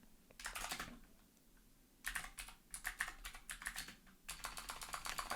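Rapid keystrokes on a computer keyboard while writing OpenGL shader code in C++, coming in several dense bursts separated by short pauses, close and clear with no talking.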